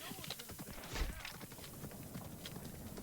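Horse hooves clop in a steady walking rhythm at close range, mixed with a busy background and occasional voices.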